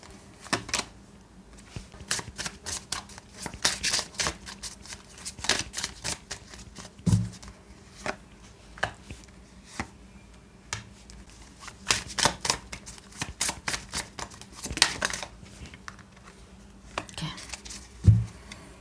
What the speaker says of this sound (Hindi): हम और कार्ड्स पुल कर रहे हैं कुछ,